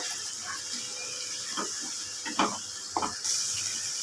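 Coconut water splashes into frying masala in a pan for a prawn malai curry, a soft steady sizzle and bubbling broken by a few brief stirring scrapes and pouring splashes.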